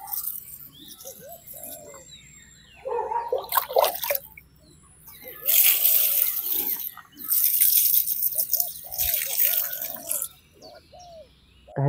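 Water splashes onto newly planted flowers in several uneven bursts during a light drizzle, while birds coo and call nearby between the pours.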